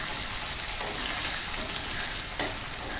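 Medicinal brinjal sautés over a low flame, a steady soft sizzle with a brief stirring scrape near the end, close and continuous.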